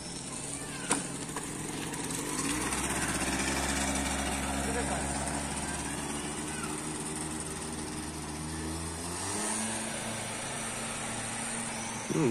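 A 1992 Yamaha Axis 50 moped engine runs steadily, a buzzing two-stroke drone with audible harmonics that rises in pitch briefly near the end, close by.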